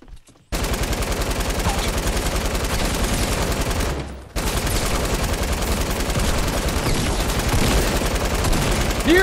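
Sustained automatic gunfire from a video game, loud rapid rattling shots with a short pause partway through, then continuing steadily to the end.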